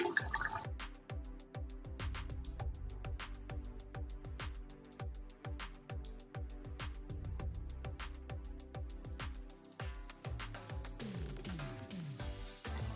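Water pours and drips into a pot of cooking mutton and chana dal in a rapid run of bubbling, gurgling splashes. The splashing is steady and close, with no voices.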